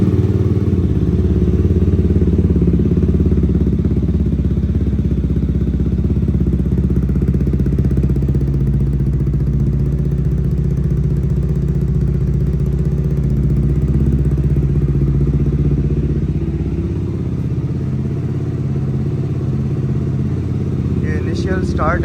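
A Benelli TNT 25 motorcycle with its exhaust being changed idles steadily and loudly up close throughout, a continuous mid-pitched engine drone with a faint shift near the end, while a person talks over it.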